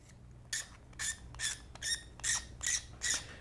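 A blade scrapes across the surface of a plastic model kit part in seven evenly spaced, rasping strokes, close and crisp against a quiet low hum.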